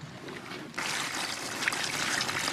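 Water poured onto plastic sheeting laid in a hole dug in the ground out in the bush, starting as a faint trickle and then becoming a steady splashing flow that continues to the end.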